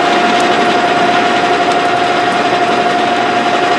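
A lathe turning a steel gearbox shaft at 715 RPM, making a loud, continuous machine whir with a steady high tone held throughout, even and close, with no breaks.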